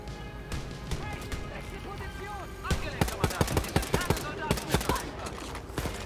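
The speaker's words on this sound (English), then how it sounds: "Who's shooting me from behind?" Enemy gunfire in the video game Wolfenstein: Youngblood, rapid bursts of sharp shots cracking in clusters over game music and effects, growing denser and louder in the second half, with someone talking over it.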